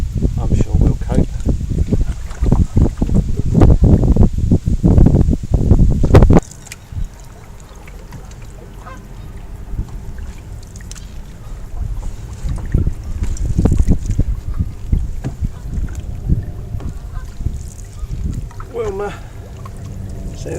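Open canoe being paddled on the River Thames, with splashing water strokes and wind buffeting the microphone; loud activity in the first six seconds, then quieter water and wind under intermittent talk.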